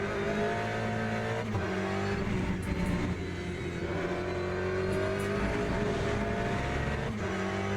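Race car engine in the sim racing game Le Mans Ultimate, holding a steady, loud drone with sustained harmonic tones that shift slightly as the throttle is worked, continuous throughout with no talk.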